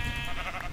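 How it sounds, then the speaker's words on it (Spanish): Minecraft sheep bleat in a short burst from a bugged flock in-game, a faint, muffled, low-level cry over a dense background hum. "Y aquí veo ovejitas."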